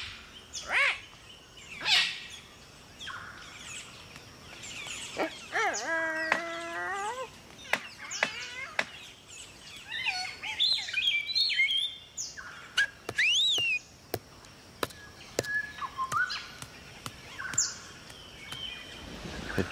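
Parrots in an Australian rainforest give varied whistles, chirps and warbling calls, some rising and falling, scattered over a quiet background with sharp clicks in between.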